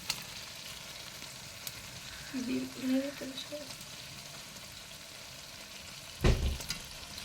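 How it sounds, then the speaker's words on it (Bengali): Marinated chicken, steeped in lemon juice, goes into a pan of browned onions for achari chicken. A faint, steady sizzle runs under a brief voice and ends with a louder clatter. "এবার ম্যারিনেট করা চিকেনগুলো একে একে আমরা দিয়ে দেবো"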